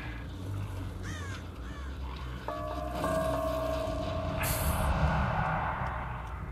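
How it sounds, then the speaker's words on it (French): A couple of crows caw in the distance early on in Dead by Daylight, faint against a steady low rumble, followed by a brief tonal hiss. "Je pense que c'est les corbeaux."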